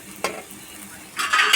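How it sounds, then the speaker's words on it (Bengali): Paratha frying in a pan gives a brief sizzling scrape near the start, then a louder, hissing sizzle builds toward the end, close and alone without voices. "যে দেখো পরোটা ভাজা চলছে, কিছুটা হয়ে গেছে।"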